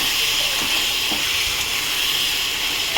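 Steam hissing steadily from a cooking pot of potato and tilapia curry as the lid is lifted, a continuous airy rush with faint clinks, close and fairly loud.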